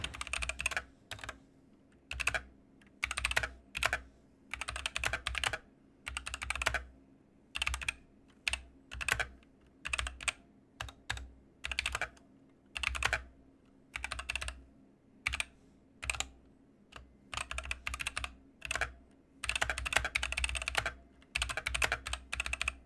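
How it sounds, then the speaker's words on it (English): Mizar MZ60 Luna custom keyboard typed on stock with no modifications, producing close, crisp clacking keystrokes in quick bursts and short runs separated by brief pauses, with no voices. "what this keyboard sounds like stock right out of the box with zero modifications"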